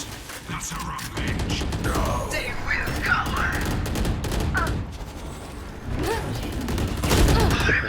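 Rapid bursts of gunfire from the video game Valorant, loud and close, with shots running together in fast volleys and brief gaps between them.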